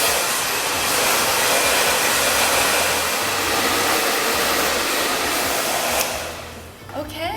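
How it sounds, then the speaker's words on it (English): A hair dryer blows steadily at close range while someone pre-dries their hair upside down to lift the roots, a loud continuous whoosh that drops away near the end. "I'm going to start pre-drying my hair"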